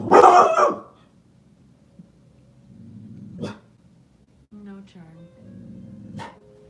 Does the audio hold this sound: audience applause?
no